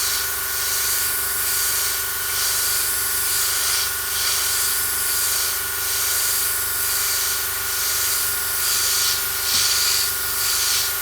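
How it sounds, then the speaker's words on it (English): Airbrush spraying acrylic paint mixed with Amsterdam acrylic retarder in light layers: a steady close airy hiss, with soft rhythmic pulses about once a second as the trigger is worked, alone without speech. "airbrush this and see how it looks"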